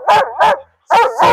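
A German Wirehaired Pointer at a shelter lets out four loud, close barks in two quick pairs separated by a brief pause.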